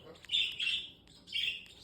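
A baby parrotlet chirps close by in a quiet room, giving three high, thin, drawn-out peeping calls separated by short pauses.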